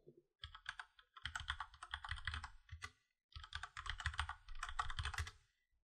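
Quiet typing on a computer keyboard as a MySQL root password is entered during an Ubuntu setup, with two bursts of fast, clicking keystrokes separated by a short pause.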